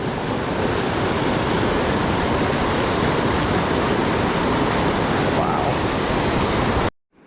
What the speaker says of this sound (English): The creek's flowing over there